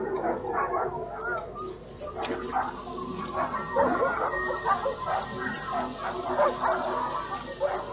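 Barking and yipping from two dogs in the horror game Darkwood, repeated irregular barks mixed with whines against a murky ambient background, with faint bird-like calls.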